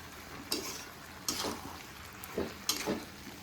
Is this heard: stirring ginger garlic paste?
yes